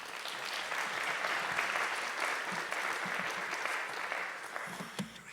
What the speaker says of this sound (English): Please join me in a round of applause for Yannis, Cana, and Michael.